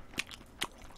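Two sharp, close crunches of someone biting and chewing crispy chicken tangsuyuk, Korean sweet and sour pork, during a mukbang meal, with a faint softer crackle between them.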